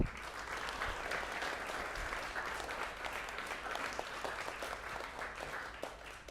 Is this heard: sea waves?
no